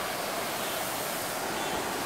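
Steady broad rushing hiss of water from a Gilmour heavy-duty garden hose sprayer nozzle set to flat spray, even and loud throughout, with no voices.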